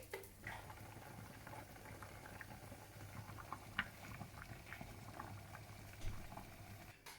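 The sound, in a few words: pumpkin soup with orange juice and chicken stock simmering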